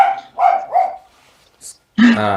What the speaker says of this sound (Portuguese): Vocês vão ficar sempre com um fundo sonoro de cachorro, tá?